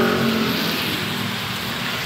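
Rain pours onto a street in steady broadband hiss while cars pass, a loud constant wash with no pauses and no talking.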